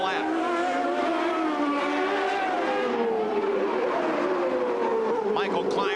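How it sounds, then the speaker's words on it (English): CART race cars on the final lap at the 1990 Long Beach street race, engines screaming at high pitch with shifting whine as cars pass close, under continuous race commentary. "Michael climbs up on the back end of Danny Sullivan. Sullivan almost loses the back end"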